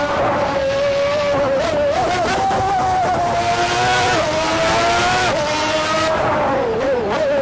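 A race car driven at the very limit in the Assetto Corsa racing game, its engine screaming loudly and steadily close up, the pitch rising and dipping through gear changes and corners for the whole stretch.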